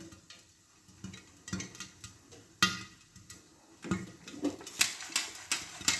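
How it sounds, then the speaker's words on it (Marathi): Sorghum popcorn popping inside a closed pressure cooker on a full gas flame: irregular sharp pops and ticks rattle in the metal pot, scattered then quickening, with light clattering between bursts; no talking. "लाया फुटण्याचा आवाज येत असेल"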